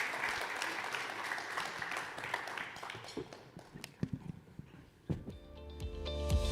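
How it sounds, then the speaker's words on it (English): Applause from a summit audience at an investment conference in Johor, a dense wash of clapping that fades and thins into scattered claps and shuffling noise toward the end. "A round of applause for Kevin"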